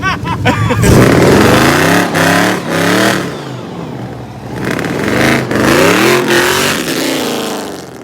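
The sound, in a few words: 1997 V6 Mustang doing a burnout, engine revving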